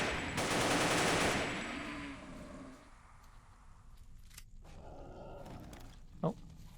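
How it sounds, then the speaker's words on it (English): Burst of AK rifle fire aimed at a bear in the game Fate of the Zone, a dense loud volley over about two seconds that fades into quieter ambient noise with a brief sharp thud near the end. "this one I can even kill with the AK"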